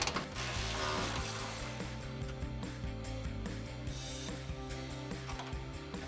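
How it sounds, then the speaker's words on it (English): A ratchet fitted with a 13 mm socket removing bumper bracket bolts on a 2021-2023 Ford Bronco, with rapid, even pawl clicks close up in a continuous run that slows slightly toward the end. "we'll grab our 13 mil socket on our ratchet. Go ahead and pop these off"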